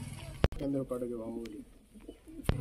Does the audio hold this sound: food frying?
no